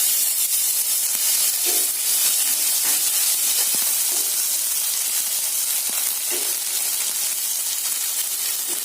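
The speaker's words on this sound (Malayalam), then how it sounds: "ഓയിൽ ചൂടായിട്ടുണ്ട്. നമുക്ക് ഇഞ്ചിയുടെ വെളുത്തുള്ളിയുടെ ഓരോ സ്പൂൺ പേസ്റ്റ് നമുക്ക് ഇട്ട് കൊടുക്കാം" Ginger and garlic paste sizzles in hot oil for a South Indian idiyappam dish, a steady broadband frying hiss with a few soft crackles and no talking.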